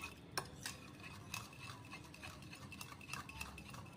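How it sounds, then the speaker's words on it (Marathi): Curd being whisked in a bowl for dahi vada, a steady run of soft scraping and clicking strokes of a utensil against the bowl, close and fairly quiet, with no talk. "आता हे चांगल्या रीतीने फेटून एकजीव करणार आहे"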